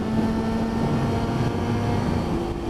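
Yamaha Thundercat motorcycle engine revving steadily while riding, a continuous loud droning hum with little change in pitch, no talking.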